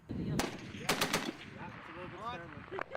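.50 caliber machine gun fire on a live military range, loud short bursts of heavy rapid shots echoing outdoors, with a faint voice in the background between bursts.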